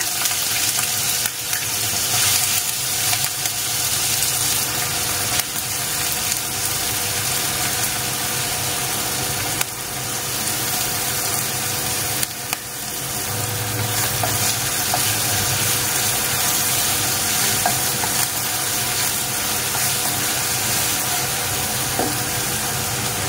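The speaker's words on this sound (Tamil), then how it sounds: "இப்போ எண்ணெய் சூடாயிருச்சு. உருளைக்கிழங்க போட்டுருவோம்." Chopped potato pieces fry in hot oil for a traditional Ramanathapuram nonbu kanji, giving a steady, close broadband sizzle that runs unbroken throughout with a low background hum beneath it.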